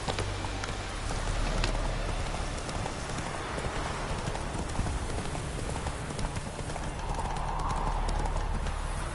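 The horse Roach gallops in The Witcher 3 with a steady rhythmic drumming of hooves, close and loud, over a faint rain-like patter and brief voices.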